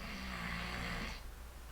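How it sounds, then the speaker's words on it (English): A pet dog snores softly nearby in one drawn-out, raspy breath that fades off near the end. "my dog's right over here snoring"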